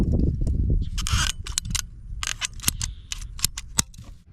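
PVC pipe being cut during a repair: a series of sharp, crisp snipping and cracking clicks in irregular bursts, close and fairly loud, with some rustling handling noise at the start.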